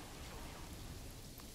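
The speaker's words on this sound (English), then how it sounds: "It's so dark. Raining." Rain falling in the zoo-building video game Planet Zoo, a faint, even, continuous hiss of steady rainfall with no distinct drops standing out and no talking over it.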